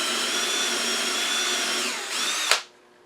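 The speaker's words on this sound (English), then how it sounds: "I'm going to go ahead and drill a 5/16 inch hole for my woodworm screw" A power drill whines steadily as it bores a 5/16 inch hole into wood, the pitch dipping under load before it stops with a sharp click and falls silent.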